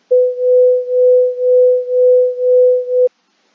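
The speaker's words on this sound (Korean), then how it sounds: "500Hz의 소리를 A 스피커에서 발생을 시키고 B 스피커에서는 502Hz를 발생을 시켰을 때" Two steady 500 Hz and 502 Hz sine tones from two loudspeakers combine into one pure tone that swells and fades in regular beats about every half second, alone and steady for three seconds before cutting off.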